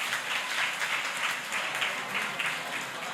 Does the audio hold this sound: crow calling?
no